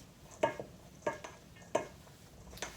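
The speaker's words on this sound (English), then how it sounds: "Let me give it a good stir and get it mixed in" A spoon stirs black bean quinoa salad in a bowl, giving three distinct scraping clacks at an even pace, close and quiet, with a lighter tap at the end.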